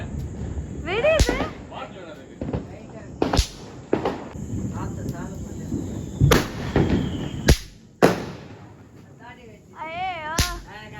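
Diwali firecrackers bursting one after another, a series of sharp loud bangs spaced a second or two apart, with excited voices and a child's high calls between the blasts.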